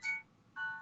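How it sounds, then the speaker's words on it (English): A phone's electronic ringtone chirps twice, each a short bright tonal burst separated by a brief pause, fairly close and clear with no talking over it. "Yes, that's a phone."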